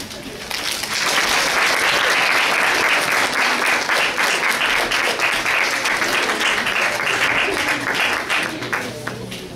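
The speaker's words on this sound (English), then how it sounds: "Let's give Sandra another round of applause for our amazing speech." Sustained applause from a teen town hall audience for a speaker named Sandra, a dense wash of many hands clapping at steady volume for nearly ten seconds, starting after a brief quieter moment.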